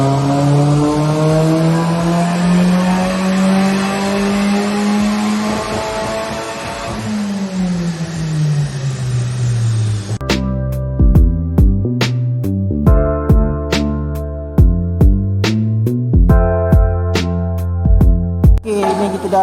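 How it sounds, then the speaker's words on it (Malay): A Proton Satria GSR CK car fitted with an Emanage unit revs hard on a dyno, the engine climbing through long loud pulls, dropping, then snapping through rapid staccato blips and cut-outs like misfires, close and dominant. "So kita akan ikat dyno dan kita akan run lah kejap lagi."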